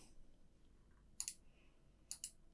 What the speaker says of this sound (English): we're double clicking on Install Kits